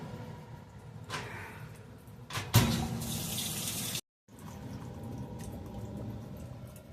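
Water runs steadily into a Whirlpool washing machine that is slowly filling, a continuous hiss and splash with a brief louder surge and a short gap where the flow cuts out before resuming.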